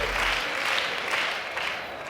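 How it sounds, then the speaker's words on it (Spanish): Studio audience applause on a Spanish late-night comedy show, a steady dense clapping that carries evenly through the whole short stretch at moderate loudness with no talk over it. "Vosotros lo aplaudís todo,"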